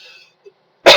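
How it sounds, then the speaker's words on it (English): One sharp, loud cough bursts out close to the microphone right at the end, after near silence and a few faint sounds. "Coughing, sneezing."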